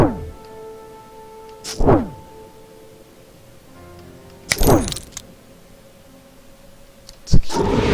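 An alchemist's bombs go off in Tales of Maj'Eyal, three separate sharp thumping bursts spaced a few seconds apart, each with a quick swooping tail, over a quiet tonal background.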